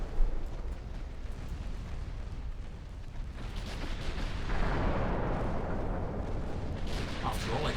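Naval guns firing on a battleship in the Ultimate Admiral Dreadnoughts naval warfare game, a dense roar of artillery that swells partway through and keeps rumbling loudly to the end.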